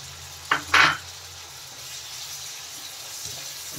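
Spice paste goes into a pan with chicken for egg chicken tadka, giving two quick clattering splashes followed by a faint, even sizzle that continues alone.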